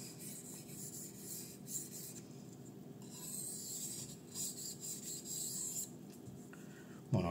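A Kizer Fighter folding knife with a 154CM steel blade rubs back and forth on a fine-grit whetstone, giving a steady, close scraping rasp with brief pauses and a sharper knock at the very end.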